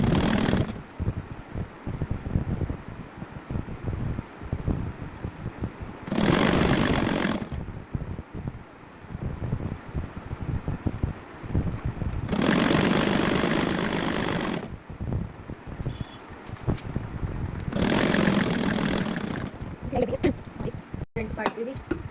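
Sewing machine stitching a strip onto a blouse neckline, running in several sustained bursts of whirring motor noise separated by pauses with handling sounds.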